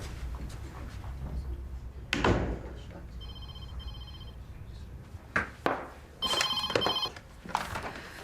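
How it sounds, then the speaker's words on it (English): A telephone rings in a doctor's surgery with repeated bursts of electronic bell tones, set against room noise and occasional door or drawer knocks. "Dr. Woodson, Mrs. Pinner's on the phone"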